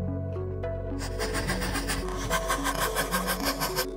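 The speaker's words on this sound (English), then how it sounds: "Slide in the coping saw." Steady rasping coping saw strokes cutting through wood, a rhythmic back-and-forth scraping close up, with a low constant hum underneath.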